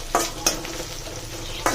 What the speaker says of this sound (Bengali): এখন আলু ভর্তার জন্য পেঁয়াজটা টালতেছি